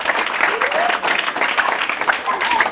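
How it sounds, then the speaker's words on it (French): Students at a school event applaud in a close, loud burst of clapping, with cheering voices mixed through the applause. "Vous pouvez applaudir encore pour lui, pour votre ami."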